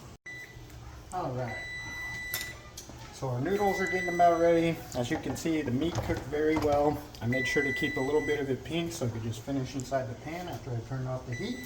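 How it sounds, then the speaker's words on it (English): A kitchen timer for boiled eggs beeps in short steady tones in the background while someone talks over it through most of the stretch. "You can hear the timer going off for the eggs."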